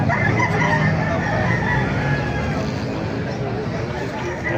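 Chickens and roosters for sale at the Baliuag market in Bulacan: roosters crow and hens cluck over a busy, steady background of crowd chatter, with a voice talking close by.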